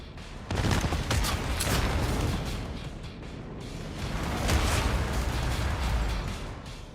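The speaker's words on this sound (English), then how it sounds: "Fires the missiles." Missiles fire from a vehicle in an off-road survival game styled after Mad Max, a dense burst of blasts and rumbling booms that runs loud and continuous through the clip, with no talk over it.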